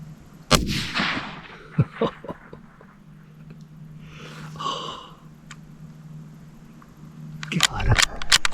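A single loud, sharp rifle shot fires a lead-free hollow point bullet during a hunt, followed by quieter rustling and breathing near the shooter before more handling noise.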